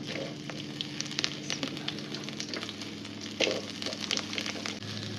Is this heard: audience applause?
no